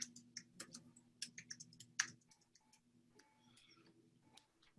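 Keys on a computer keyboard tap out a reply in quick irregular bursts of light clicks, close and quiet, with a few soft pauses between strokes.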